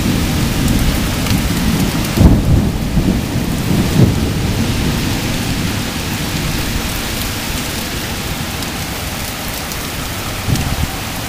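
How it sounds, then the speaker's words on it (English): Heavy rain pours steadily while deep thunder rumbles and booms during a severe storm in Macomb County, with a couple of louder cracks early on, all close and loud with no voices. "large and powerful storm."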